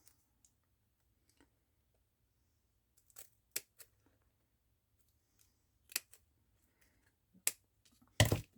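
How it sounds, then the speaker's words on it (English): Scissors snip a paper number out for an idea-book pocket page, giving a few sparse, crisp cuts in a quiet room, the loudest crunchy snip coming at the end. "So let's cut that number out."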